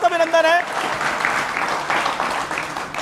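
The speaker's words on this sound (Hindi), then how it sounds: "एक बार फिर जोरदार तालियों के साथ अभिनंदन है।" A studio audience claps in welcome for a Bhojpuri film star guest; a short vocal sound opens, then steady, moderately loud applause continues to the end.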